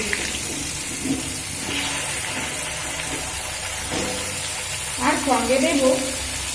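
Cut potatoes dropped into hot oil tempered with whole cumin and dried red chili, giving a rising sizzle and frying crackle near the end, with someone speaking over steady kitchen noise.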